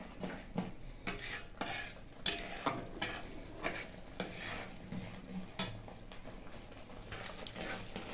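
A spoon stirs and scrapes spice paste frying in a pan for matar paneer. Repeated rhythmic metallic scrapes and clinks run over a faint sizzle, close and fairly quiet.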